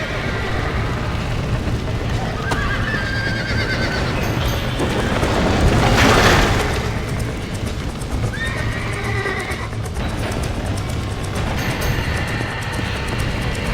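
A horse whinnies over steady clip-clopping hooves and a constant background drone in the video game Red Dead Redemption Remastered, with a louder surge midway and voices calling out.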